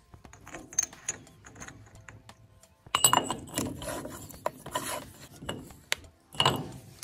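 Outer nut being threaded onto a Willys Jeep wheel spindle during a wheel bearing setup: a series of close metallic scrapes, rasps and clicks, quiet at first and then louder and more frequent in irregular bursts.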